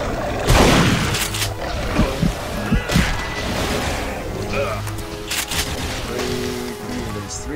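Enemies firing in the video game Duke Nukem Forever, a dense, loud barrage of gunfire bursts and impacts with crashing debris, continuing through the whole stretch under a busy game soundscape.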